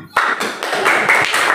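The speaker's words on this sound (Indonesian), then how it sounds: "Oke, tepuk tangan." A group clapping hands in a classroom-style session, a short burst of close, bright claps that stops and starts in quick pulses.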